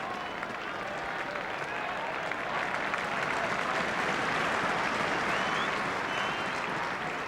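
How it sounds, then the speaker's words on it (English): Stadium crowd at a 1980 Nottingham Forest v Dynamo Berlin football match applauding young player Bryn Gunn, a steady, dense wash of clapping and cheering that stays loud and even throughout. "Crowd rise to young Bryn Gunn"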